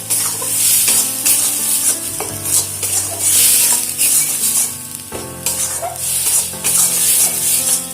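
A traditional village Bengali dish, cooked in a pan with mustard oil, green chillies and turmeric, is stirred and fried. Loud, steady sizzling runs throughout, with repeated scrapes and clatters of the spatula against the pan.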